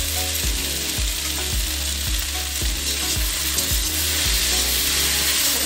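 Okra (bhindi) cooking in a pan over a loud, constant sizzle, with a regular rhythm of low scraping strokes as it is stirred, close up.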